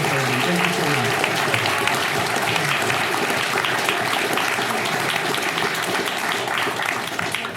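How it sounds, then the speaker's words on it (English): An audience gives presenters a sustained round of applause at a speaker-series talk, many hands clapping steadily and fairly close, continuing evenly for several seconds with a faint voice near the start. "one more round of applause for these incredible gentlemen"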